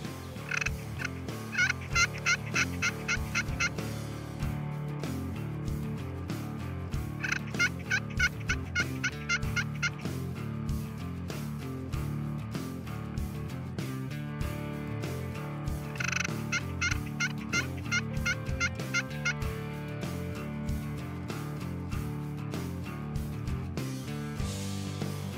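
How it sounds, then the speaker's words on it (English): A wild turkey gobbler calls from about 300 yards away in a misty tree line during spring: three bursts of rapid gobbling, distant and faint, separated by quiet stretches with no talk. "I've got a gobbler about 300 yards out in front of me in that tree line"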